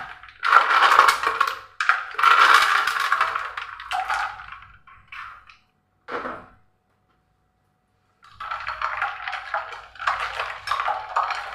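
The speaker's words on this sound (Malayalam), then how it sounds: "അല്പം ഐസ് ക്യൂബ്" Ice cubes tumble into a freshly pulsed lime drink in a home kitchen, giving loud clattering, crunching bursts in several close clusters with short pauses and a full silence in between.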